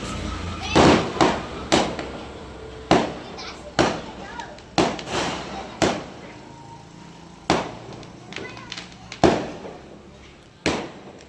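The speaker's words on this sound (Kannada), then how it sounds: "ಅಲ್ಲಿ ಕಲರ್ ಪಟಾಕಿ ಏನು ಹೊಡಿತವ್ರೆ." Colour firecrackers set off outside a house during festive celebrations, a string of sharp cracks and pops at irregular intervals, some near and loud, others more distant, with occasional voices faintly in the background.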